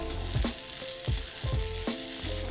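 Quinoa fried rice sizzles steadily in hot oil in a pan, with a few soft scraping stir strokes breaking through the constant crackle at close range.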